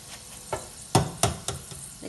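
Potato pieces fry in hot oil in a pan. A soft, faint sizzle runs under a few distinct scraping taps as they are stirred, with no talking.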